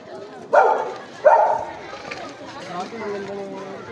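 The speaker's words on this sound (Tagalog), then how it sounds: "Puro aso po yan mga lods." Several dogs bark on a hillside trail, two loud, sharp barks close by, then quieter barking and yapping further off.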